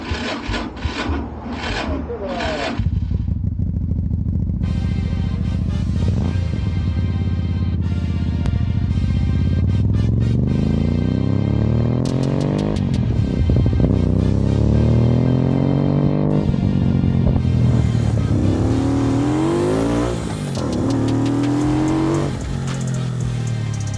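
Chinese 250cc bobber motorcycle with a tiny exhaust ridden up a road, its small engine revving and shifting through rising and falling pitch sweeps, loud and close with rasping exhaust tone throughout.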